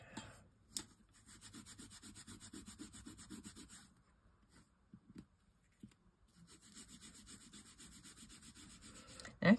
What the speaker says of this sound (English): now's the time I'm going to burnish